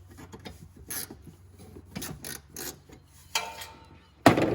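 A ratchet works loose 10 mm bolts on the A/C system of a 2007.5 Dodge Ram Mega Cab 2500 6.7L Cummins, close rhythmic bursts of clicking and rasping, ending with a louder metallic clatter.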